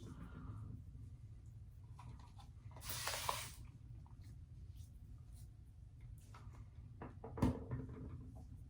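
A single short hiss of a spray bottle wetting a shave, quiet against a low background hum, followed later by a faint click.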